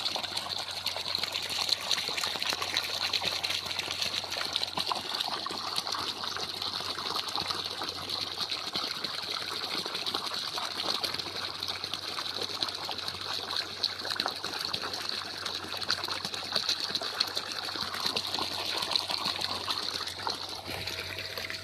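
Water gushes steadily from a solar-powered motor pump on an 1100-foot borewell, a continuous loud rushing splash that holds unbroken and alone throughout.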